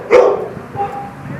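A single dog barks once at an animal shelter, a short, loud bark near the start that fades into quiet kennel background.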